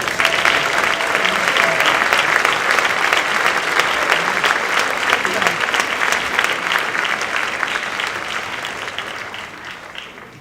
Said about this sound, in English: please give these young men a round of applause